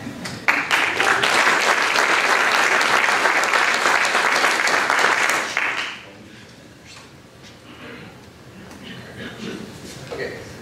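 An audience bursts into sustained, loud clapping to welcome a speaker, holding steady for several seconds before dropping off abruptly, followed by quieter room sounds.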